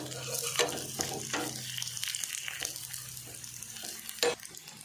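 Pathrode, colocasia leaf rolls, frying crisp in a pan, a steady close sizzle with a few stirring scrapes and a sharp clatter near the end.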